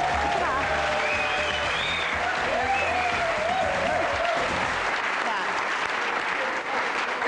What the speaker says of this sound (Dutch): Heeft een applaus.